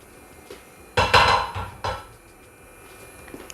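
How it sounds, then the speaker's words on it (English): Metal clatter of a cooking pot as palm oil goes in for egusi soup: a few sharp knocks and rattles close by, surrounded by quiet room tone. "Palm oil goes in the pot."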